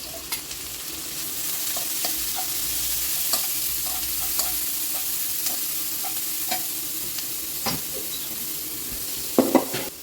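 Cabbage and carrot stir-fry in a pan for egg fried rice, hissing steadily while a spoon clicks and scrapes against the metal at irregular intervals. A louder clatter comes near the end, and no voice is heard.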